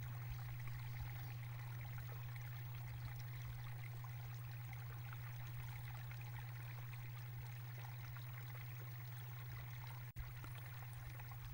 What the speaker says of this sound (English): a transparent, clear, unbroken membrane of falling water